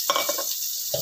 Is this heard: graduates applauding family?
no